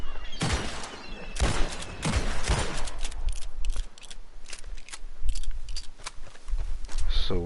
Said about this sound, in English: so it will shoot these guns simultaneously